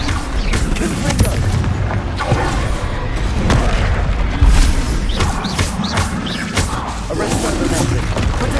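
Confringo blasting spell explosions in the Hogwarts Legacy video game, a dense run of booming impacts and crackling game effects mixed with continuous combat sound and a voice shouting.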